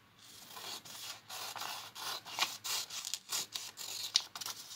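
Scissors snip through paper being trimmed square for a paper-pieced quilt block, a series of short, close crisp cuts that quicken into a rhythmic run of snips.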